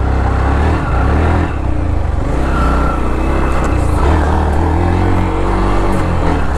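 A Yamaha R15 touring motorcycle being ridden with traction control off gives a continuous, loud engine drone mixed with road and wind noise, holding steady throughout with no talk.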